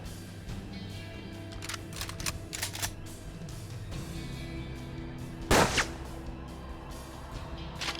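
Gunfire in the turn-based western game Hard West, a few sharp cracks early on and one loud, close gunshot midway, set against a constant low game ambience.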